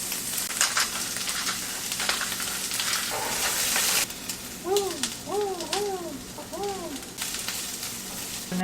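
Onion frying in oil in a pan gives a steady, close hiss of sizzling, with a few high chirping squeaks rising over the sizzle toward the end.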